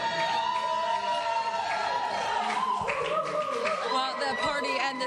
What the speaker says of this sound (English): The celebration is still going strong, as you can see and hear behind me.